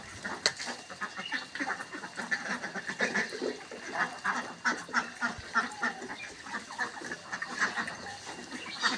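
A flock of Khaki Campbell ducks on a duck farm, let out in the morning, quacks and chatters continuously in a dense, overlapping chorus at moderate distance, with a few louder calls standing out.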